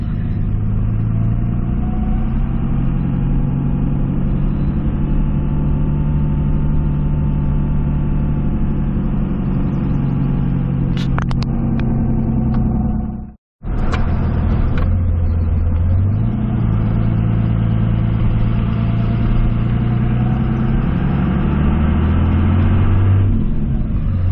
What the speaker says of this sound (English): you got to get out in your Dodge Ram sometimes, burn up some diesel